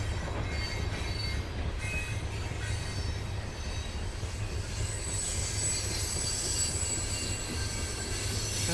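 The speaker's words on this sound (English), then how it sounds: "And we're coming to the end of the train." A freight train rolls past near a walking path in Arlington, Virginia, with a constant loud rumble of railcars and high, thin wheel squeals that rise and fade. Nobody speaks.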